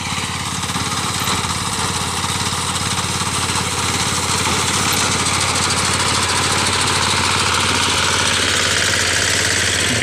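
A BCS Italian reaper binder machine cutting a crop, its engine running loud and steady with a dense mechanical chatter, close and unbroken for the whole stretch, no talk.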